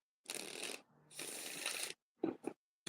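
Tarot cards riffled and shuffled in close bursts: two long papery runs, a short pause, then a few quick taps and flicks.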